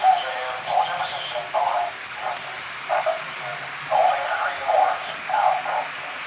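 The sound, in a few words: HO scale model steam engine running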